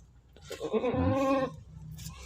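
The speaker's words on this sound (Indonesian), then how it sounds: "Kita dapat lagi satu ekor anak kambing, aman, selamat ya teman-teman, lahirnya nggak ada masalah." A newborn goat kid bleats once in a single drawn-out, wavering cry, close and fairly loud, with quiet surroundings before and after.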